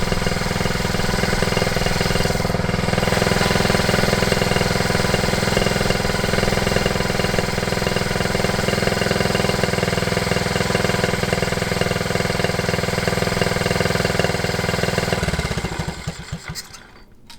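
A Honda T50 motorcycle engine idling after ten years unused, a loud, steady, rough close-up putter that holds for most of the time before faltering and dying away at the end.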